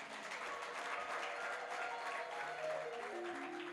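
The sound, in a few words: audience clapping at a church service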